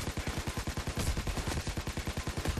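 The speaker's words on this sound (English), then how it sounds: "Oh my god, I'm being shot at." Rapid automatic gunfire in the video game PayDay 2, a fast, evenly spaced stream of loud shots continuing without pause.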